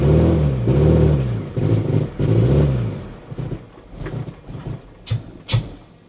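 A 4-cylinder engine in a Chevrolet S10 runs roughly, with an uneven, lumpy rhythm that fades into irregular sputters and a couple of sharp pops toward the end.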